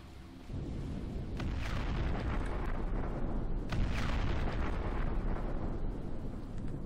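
Missile launchers fire in the video game Empyrion, a sustained roaring rumble of launches with a couple of sharper whooshing bursts rising over it, loud and continuous without speech.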